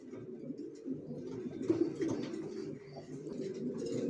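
Racer pigeons, a tagged pair of young birds, coo softly and continuously at close range, with low murmuring calls forming a steady bed and no talking.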